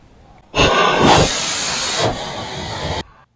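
A rocket motor test burn roars as a loud, harsh hiss that starts abruptly, holds steady for about two and a half seconds, and cuts off sharply, heard close with no voices.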